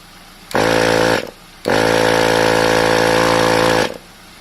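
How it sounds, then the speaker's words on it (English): A Bergmann Typhoon analog tyre inflator pumps air into a tyre. It gives a loud, steady mechanical buzz with a strong hum. There is a short first run, a brief pause, then a longer continuous run of about two seconds before it stops. "Let me put the pump on."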